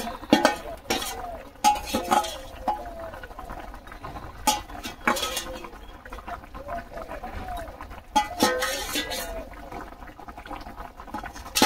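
Onions and eggs fry in a pan, with soft sizzling under repeated sharp scraping and clinking of a utensil stirring in irregular bursts, while someone talks intermittently.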